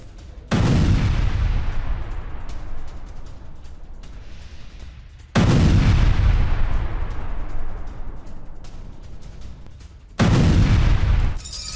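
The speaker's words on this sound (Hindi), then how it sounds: "रिहायशी इलाके पर दागी मिसाइल, भीषण विस्फोट से मकान ध्वस्त" Missile strikes on a residential area of Kyiv send three massive explosions booming out several seconds apart, each a heavy blast followed by a long rumbling decay as buildings collapse, with no talk.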